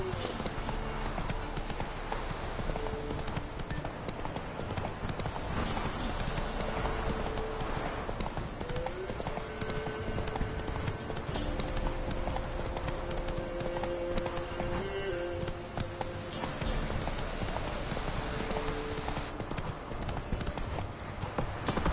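Horse hooves clip-clop steadily in The Witcher 3, a continuous rhythmic trot over game ambience and music, with a faint whinny and occasional voices.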